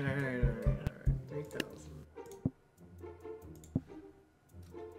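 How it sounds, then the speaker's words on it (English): During a Totally Accurate Battle Simulator game, sharp scattered clicks sound irregularly, some loud and some faint, mixed in with people talking. "I hear a lot of clicking."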